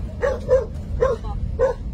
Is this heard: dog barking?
yes